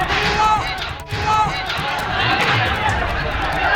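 An agitated crowd of protesters in Bangladesh during violent unrest shouts and roars in a dense, continuous din. The noise stays loud and chaotic throughout, with many voices blending together.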